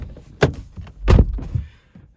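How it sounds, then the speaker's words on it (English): A Ford vehicle's door unlatches and swings open with a couple of sharp clunks and thuds, close by, followed by faint rattling. "I like to turn the vehicle off and open the door"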